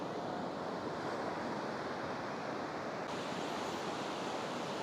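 Ocean surf at Tarkarli beach on the Konkan coast in the morning, a continuous broad wash of waves rolling in, steady and fairly loud with no voices.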